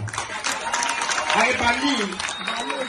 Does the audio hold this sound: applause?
yes